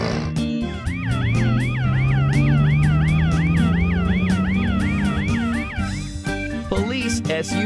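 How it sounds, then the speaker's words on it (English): A police SUV siren from an animated cartoon wails loudly in a steady, rapid up-and-down cycle over a rising engine drone, then cuts off near the end, leaving brief tonal effects. "Police SUV."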